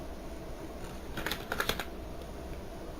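A short burst of keystrokes on a computer keyboard while entering a mkdir command in a Debian terminal, a quick cluster of light clicks over a constant background hum, with no talking.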